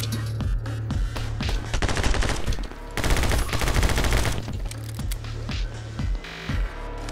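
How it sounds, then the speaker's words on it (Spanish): Gunfire in the action video game My Friend Pedro, with rapid bursts of automatic shots and heavy repeated gun blasts over a pulsing electronic soundtrack, loud and nearly continuous. "Disparo ahí, vale."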